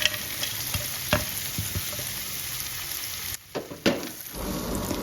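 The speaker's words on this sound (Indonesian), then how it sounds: "Aduk hingga bumbunya tercampur ya." Fried peanuts and fried anchovies being stirred into thick seasoning in a pan over low heat, with a steady soft sizzle and scraping stir strokes, a few sharper clatters near the end.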